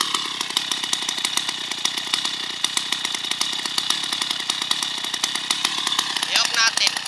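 A Stihl 070 chainsaw runs loud and close with a steady, rough high-revving engine buzz throughout, someone speaking briefly over it.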